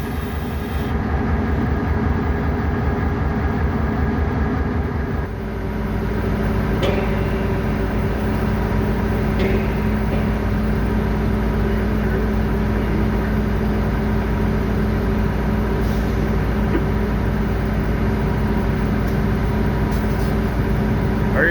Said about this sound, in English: All right, we'll follow the train out.